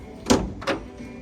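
A one-fold door on a Bacchus Senator RH770 day boat swings open, giving two short knocks and slides about half a second apart, close and fairly quiet against a faint background hum.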